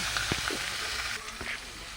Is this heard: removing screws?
no